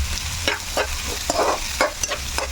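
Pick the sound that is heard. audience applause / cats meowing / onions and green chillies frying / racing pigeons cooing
onions and green chillies frying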